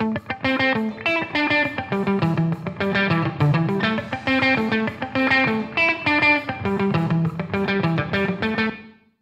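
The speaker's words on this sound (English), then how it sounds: "we're just going to dial in the wet knob to taste for the amount of reverb that we want" A distorted music track plays with reverb mixed in through an effect's wet knob, a steady dense stretch of sustained tones with a washy tail running the full length without talk.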